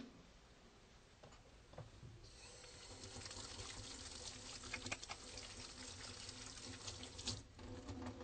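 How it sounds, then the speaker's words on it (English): Tap water runs into a sink as hands are washed after a physical examination in a clinic room, a faint, steady splashing rush that swells slightly partway through. "let me go ahead and wash my hands"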